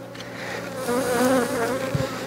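Honeybees in an opened hive in February, a dense close buzzing swarm with wavering pitch and a few louder passes near the microphone.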